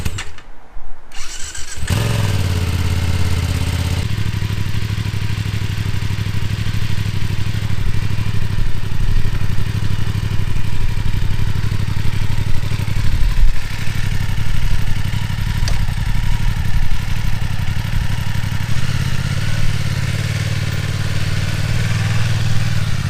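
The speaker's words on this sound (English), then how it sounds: "we've been out on the first ride for this motorbike as well" A 2020 BMW F900R SE motorcycle engine runs steadily and loudly up close throughout, a deep continuous drone with clattery texture and slight shifts in pitch as it rides along, with no talking over it.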